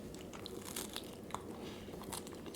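Quiet, close crunching bites into crusty garlic bread made on Cuban bread, a few crisp crackles over soft chewing with no talking.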